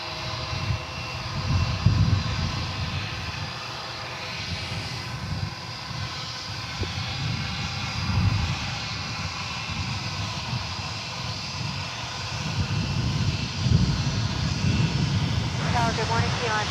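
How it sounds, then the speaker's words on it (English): An American Airlines Airbus A321 jet at DFW Airport gives a steady, distant engine roar that swells and fades gently over a long stretch, with faint radio chatter beneath. "This is American Flight 1974. There on the right. It's an Airbus A321."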